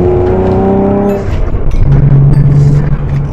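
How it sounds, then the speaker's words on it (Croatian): A BMW E36 fitted with a loud aftermarket exhaust drives along, its engine note climbing steadily and then settling into a deep, continuous droning rumble, close and loud throughout with no talking. "Sa ovim izduvom se auto baš lepo čuje, znači čim dohvati nekih 3400 obrtaja, tu počinje da prokida."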